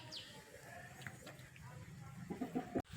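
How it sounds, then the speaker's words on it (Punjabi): Chickens cluck and chatter softly in the background, with scattered calls and faint outdoor noise. The clucking grows a little louder toward the end. "ਤੇ ਮੁਰਗੇ ਬਈ ਆਪਣੇ ਚੁਗਣ ਲੱਗੇ"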